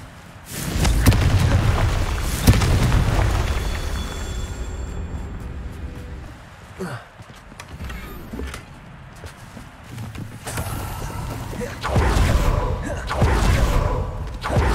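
Confringo spell blasts erupt in the fantasy game Hogwarts Legacy, loud fiery booms and crackling impacts that recur in heavy bursts over ongoing combat noise.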